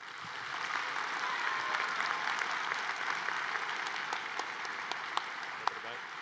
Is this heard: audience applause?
yes